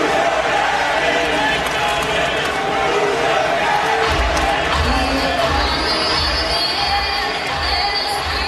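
Yankee Stadium crowd at a 2009 World Series game, Phillies at Yankees, roaring and shouting as Pedro Martinez steps onto the field, a loud, sustained wash of voices with heavier low rumble swelling in the second half.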